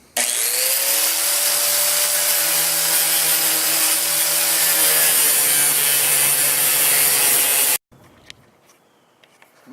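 One-handed grinder working on a houseboat safety gate, a loud steady high-pitched whine that stays constant for several seconds, then cuts off abruptly and leaves faint background noise.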